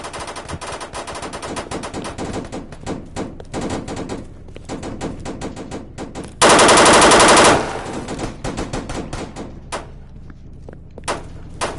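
Machine gun fire in a video game rattles in long, dense, loud bursts almost without pause, with a brief blaring peak of sustained fire in the middle and no speech.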